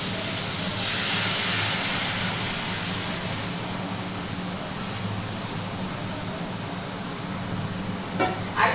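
Cooked lentils hit hot mustard-seed and dried-chilli tempering with a bright, loud sizzle that flares at first and then settles into a steady hiss, with a couple of small clatters near the end.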